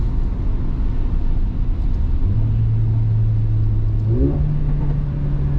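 Mercedes CLA 45 AMG accelerating hard, a loud close engine drone rising in pitch, then dropping sharply in a quick DSG gearshift and climbing again, with interior rumble throughout.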